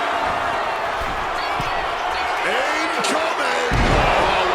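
A wrestler's splash landing in the WWE 2K26 video game, heard as a heavy thud in a loud arena amid constant crowd roar and commentary, with a sharper impact near the end.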